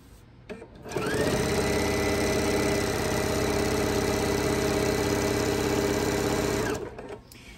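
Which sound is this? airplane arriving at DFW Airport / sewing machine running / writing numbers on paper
sewing machine running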